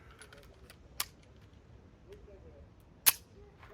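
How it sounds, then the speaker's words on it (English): A Ruger LCP Max pistol fires RIP rounds outdoors: two sharp, isolated cracks about two seconds apart against a quiet background, the second louder than the first. "I'm probably gonna shoot 5 RIP rounds up here on the head"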